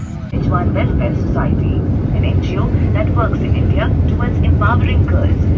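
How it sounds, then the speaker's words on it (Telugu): A jet airplane's engines drone steadily and loudly from inside the cabin as the plane begins to taxi, with a continuous low roar and faint chatter in the background. "ఫ్లైట్ కదలడం ఇప్పుడే మొదలైంది"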